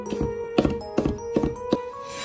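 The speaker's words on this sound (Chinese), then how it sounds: "然后再改刀剁成蒜末就可以" A knife minces garlic in a series of quick, close thumps, with some strikes doubled, keeping a steady rhythm of roughly two or three blows per second over a faint tonal hum.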